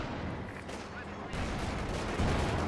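An artillery barrage in the strategy game Company of Heroes 2, a dense rumbling roar of distant shell impacts and gunfire that swells louder partway through and again near the end.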